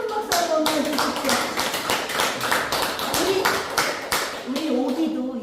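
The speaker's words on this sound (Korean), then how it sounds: "우리 정효진 회장님 큰 박수 한번 해주십시오." A small group claps for an association president at a songwriting academy class. The hand claps are distinct and fairly close, uneven and scattered, with some voices mixed in.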